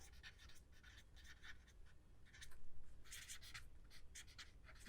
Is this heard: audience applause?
no